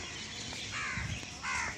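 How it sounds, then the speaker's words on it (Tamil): Crows caw on a road during an early-morning walk: two harsh, drawn-out caws about half a second apart, moderately close over steady outdoor background noise. "காக்கா நிறைய காக்கா எல்லாமே ரோடுகளில் உட்காந்துருக்கும்"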